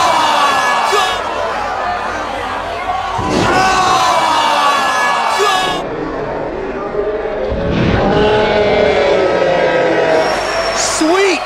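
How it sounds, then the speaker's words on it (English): Loud, close crowd roaring and cheering wildly at a CZW wrestling match, with repeated surges of shouting and screams in waves across the whole stretch. "The crowd is going fucking nuts"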